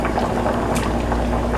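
Jamaican red pea soup bubbles and simmers at a steady boil as chunks of sweet potato and yam go in, producing a continuous close watery churn with no talking.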